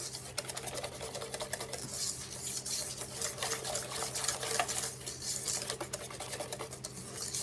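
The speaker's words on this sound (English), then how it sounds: "let's give it another stir" A spoon stirs a thick chocolate cherry dessert mixture in a bowl, giving soft, continuous scraping and sticky swishing sounds at a quiet, even level throughout, close up and with no voices.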